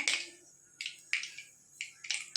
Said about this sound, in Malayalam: അപ്പോൾ അതേ കടുക് ഇട്ട് കൊടുത്തിട്ടുണ്ട്. അത് നല്ലതുപോലെ പൊട്ടി വരട്ടെ കേട്ടോ.